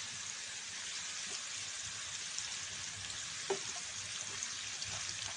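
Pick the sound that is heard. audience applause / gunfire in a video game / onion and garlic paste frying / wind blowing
onion and garlic paste frying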